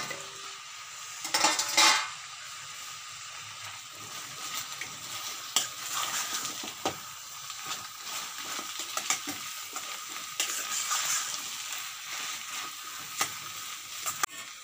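Chicken dropped into a pan of sauce for Dragon Chicken and stir-fried, with a steady soft sizzle and frying crackle under scraping stirs and clinks of utensil against the pan, a louder burst early on.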